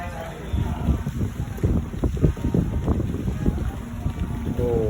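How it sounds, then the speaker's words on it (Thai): Cool seaside wind gusts steadily across the microphone at a seafood buffet restaurant by the sea, a loud continuous rumbling roar with faint indistinct voices beneath it. "อากาศดีมากๆเลยลมเย็นสบาย"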